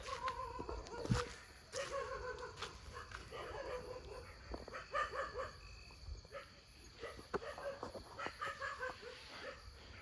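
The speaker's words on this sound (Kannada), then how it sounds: "ಹತ್ತು ಕಡೆ ಹೋದರೆ ನಾಯಿಗಳು ಹತ್ತು ಕಡೆ ಸೌಂಡ್ ಬರದೆ ಬರ್ತಾ ಇದೆ ನನಗೆ" Dogs bark repeatedly from several directions at a distance, scattered irregular barks in a quiet outdoor setting.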